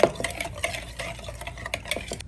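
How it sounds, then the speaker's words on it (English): A small whisk beats garlic, salt, pepper and oregano together in a bowl, giving quick, light, irregular scraping and tapping strokes at close range. "Some salt, some pepper, some oregano. I'm gonna whisk that together."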